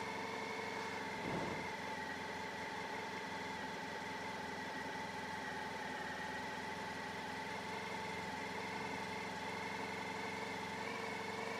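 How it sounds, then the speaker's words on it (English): A motorcycle engine idles steadily after a choke repair, a continuous close, even hum that holds at a constant pitch and level for the whole stretch, with no voices. "take the choke off and the revs drop back down"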